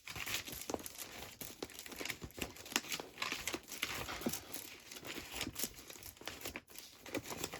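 Sheets of paper and cardstock crumpled, crinkled and handled at close range during a paper-craft ephemera session, a steady busy rustle with sharp crackles and a few tearing bursts, no talking.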